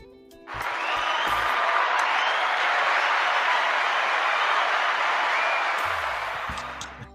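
A canned applause sound effect triggered by a clap button during a Dallas Cowboys draft talk show, a smooth wash of crowd clapping that swells in, holds steady, then fades, with brief voices around its edges.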